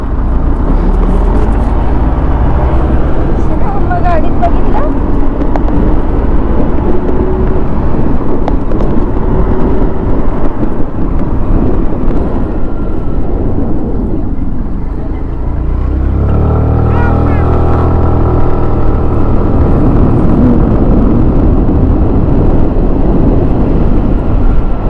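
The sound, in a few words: tempo truck engine running while driving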